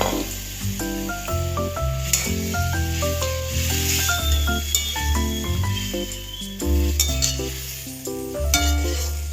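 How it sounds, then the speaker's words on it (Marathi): Cluster beans (gavar) hitting a hot pan and sizzling while being stirred, a continuous hiss with light clinks of the utensil, heard under a melodic background music track. "आता याच्यात गवार टाकून घेणार आहोत।"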